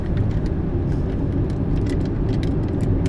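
A Tesla Model X with Autopilot 2.0 hardware rolls through heavy six-lane rush-hour traffic, a steady loud road and engine rumble with passing vehicle noise and no voices.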